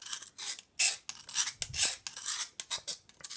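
A knife blade dragged hard across concrete to dull its edge, a string of sharp gritty rasps in quick uneven strokes, close and fairly loud with no talking.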